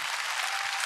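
Concert audience applause at a Mother's Day show, a brief, steady hiss of many hands clapping at a distance, even and sustained without any voices.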